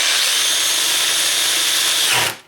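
A power drill bores through a plastic bucket for a DIY water filtration system, giving a loud, steady high-pitched whine that holds for about two seconds, then winds down abruptly.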